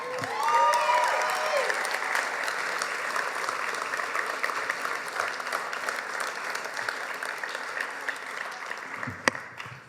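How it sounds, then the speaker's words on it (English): Gala audience applause fills the room, a dense sustained clapping from a large crowd that stays loud and steady before thinning slightly near the end, with brief faint voices at the start. "One more round of applause."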